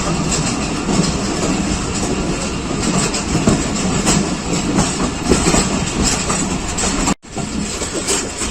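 Hazara Express passenger train running straight through a station without stopping, shifted onto the loop line during track maintenance; a loud, continuous rumble and rattle of wagons rolling close by, with a brief gap near the end.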